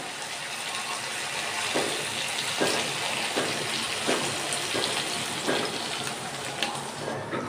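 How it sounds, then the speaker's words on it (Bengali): Water is poured into a pan already holding raw mustard oil for a tangra fish curry with green tomatoes, a steady close rushing splash that carries on throughout with faint knocks underneath. "এবার আমি দিয়ে দিচ্ছি জল।"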